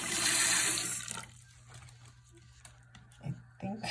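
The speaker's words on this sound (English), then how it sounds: "and then put it under the tap water." Tap water gushes over a glass slide stained with an E. coli smear in a biology lab sink: a loud, steady rush for about a second, then quiet with faint handling clatter.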